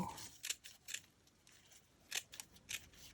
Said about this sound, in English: I'm gonna cut it like so